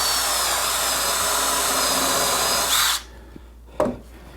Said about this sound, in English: I'm only going to put 1 screw in each of these.